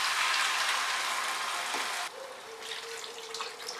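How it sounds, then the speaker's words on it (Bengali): Water poured from a vessel into a pan of cauliflower curry on the stove, a steady broad rushing splash for about two seconds that then drops to a quieter simmering hiss. "এবারে এর মধ্যে আমি জল অ্যাড করে দিচ্ছি।"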